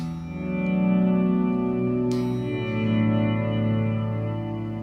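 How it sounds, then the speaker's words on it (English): A guitar through a Source Audio pedal set for swelling reverb rings out in a lush, sustained wash with a bright strum partway through, steady and fairly loud with no talking. "It's like a nice swelling reverb"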